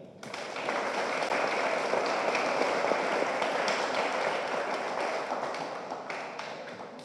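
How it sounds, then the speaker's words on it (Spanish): An audience at a university sustainability talk breaks into a loud, dense round of applause that holds steady for several seconds and fades slightly toward the end, with no talking over it. "Le pedimos un fuerte aplauso"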